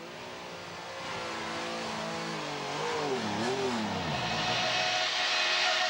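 A Mercedes C Class DTM German touring race car pulls away on track, its engine rising and falling in pitch through a gear change as it accelerates, loud and close from inside the cockpit.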